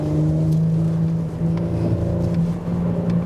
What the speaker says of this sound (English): sometimes you can hear the power of the engine